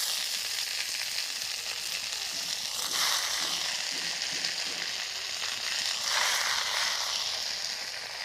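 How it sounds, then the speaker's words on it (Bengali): Finely chopped raw onion frying in a pan for a meat curry with green mango, a steady loud hissing sizzle that swells twice as the pieces are stirred, with no talking. "পেঁয়াজটা ভাজা হচ্ছে, অল্প ভাজা হচ্ছে"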